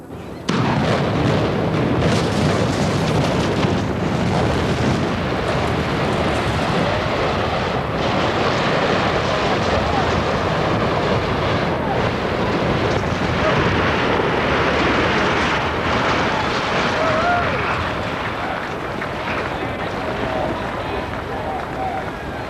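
A dynamite demolition blast brings down a building: a loud, sustained roar and rumble of explosion and collapsing debris that fills the whole stretch and fades only slightly toward the end, with no talk heard.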